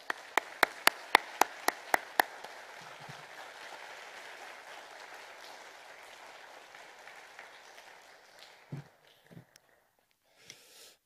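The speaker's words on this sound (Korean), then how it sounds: "박수로 맞이하겠습니다." A church congregation gives a welcoming round of applause for a visiting pastor, opening with several sharp separate claps before a steady wash of clapping fills the hall, then fading to a few scattered claps and quiet.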